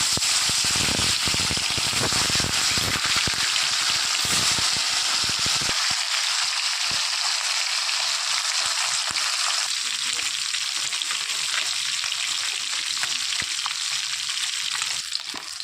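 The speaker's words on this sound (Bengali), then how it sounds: "এদিকে তেল গরম হয়ে গেছে, এক এক করে মাছগুলো ছেড়ে দেবো।" Bhola fish fry in hot oil, a loud, dense, steady sizzle close up, with scattered crackles and pops that thin out after the first few seconds and no talking.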